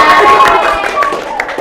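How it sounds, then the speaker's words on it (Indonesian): A short burst of clapping from a group of students in a classroom, brief and fairly close, with voices mixed in. "Tepuk tangan untuk kelompok"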